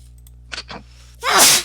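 A single loud, explosive sneeze bursts out after a short pause, preceded by a couple of faint breathy sounds.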